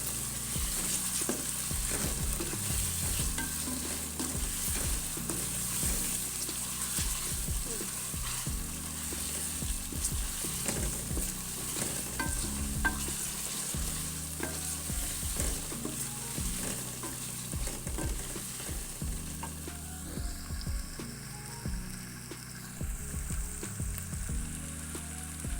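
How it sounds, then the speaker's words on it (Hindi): Chicken frying with ginger-garlic paste and green chili paste in a pan, a steady close sizzle with repeated scraping and stirring strokes throughout, no voices. "और इनको भी हम अच्छी तरह से चिकन के साथ जो ना फ्राई करेंगे।"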